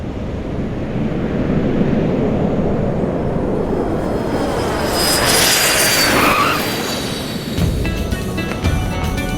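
A fixed-wing airplane on final approach for landing, its steady engine roar loud and continuous throughout, swelling slightly toward the middle as it passes close, with no voices.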